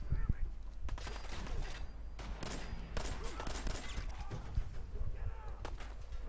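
Gunfire in the PC game Fallout 4 comes as dense rapid bursts and volleys of shots, loud and continuous throughout, with a voice talking briefly over the action.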